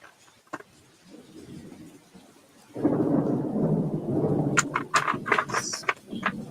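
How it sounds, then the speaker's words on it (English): A thunderstorm breaks: a deep rolling thunder rumble surges in after a quiet moment and lingers. Sharp crackling hits and pattering rain follow close by. "It just started storming here and it thundered at the same time as the ambience did"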